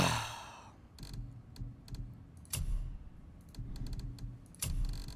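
Keys on a computer keyboard are typed in irregular runs of close clicks, with a few sharper, louder strikes. A breathy sigh and a steady low background hum sit underneath.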